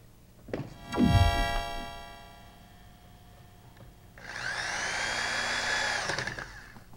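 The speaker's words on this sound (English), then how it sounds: "And then drive in the screws." A power drill drives screws, giving a whirring spin-up with a falling pitch, a pause, then a louder sustained whine with grinding texture, up close.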